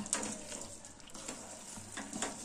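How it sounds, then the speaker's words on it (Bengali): A spatula stirs amla in melted sugar syrup in a pan, giving soft, faint scraping and bubbling sounds with a few light clinks, close and quiet, with no voices. "এবার আমি একটু খুন্তি দিয়ে নেড়ে দিচ্ছি।"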